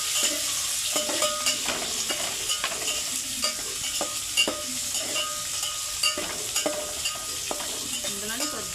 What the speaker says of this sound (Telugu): ఇప్పుడైతే ఉల్లిగడ్డలు వేద్దాం బాగా వేగాలండి మనకి